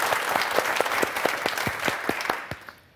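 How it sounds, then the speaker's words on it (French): A studio audience on the French TV game show Motus claps in a steady run of applause that starts strong, holds for a few seconds and then thins out and fades at the end. "applaudissements pour Hélène et Fabienne."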